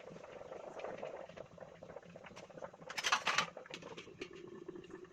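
Water boiling under stacked idli plates while steaming mini idlis, a soft continuous bubbling and pattering with a louder burst midway, close and steady.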